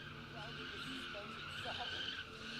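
A drift car skidding under gas and brake at a live drift event, a faint continuous tire squeal and engine drone heard from a distance, with talking over it.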